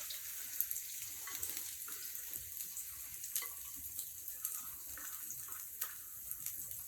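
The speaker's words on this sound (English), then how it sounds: "Nice little sizzle, already starting to form the crust." Close, steady crackling sizzle of cornbread batter frying in a hot cast iron skillet, continuous hiss with small pops, no talking.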